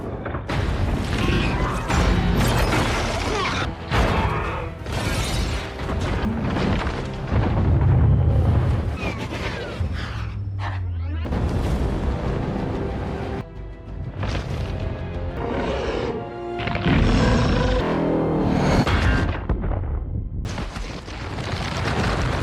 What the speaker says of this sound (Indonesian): Jaeger itu menghantam kaiju dan menimbulkan gelombang ledakan yang sangat dahsyat